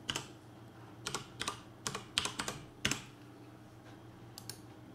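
A folder name is typed on a computer keyboard in a few short bursts of close, crisp key clicks separated by pauses, quiet and without speech.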